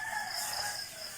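A rooster crows in the morning at a rural campsite in Tanay, Rizal, a single drawn-out, faint cock-a-doodle-doo heard from some distance against quiet outdoor ambience.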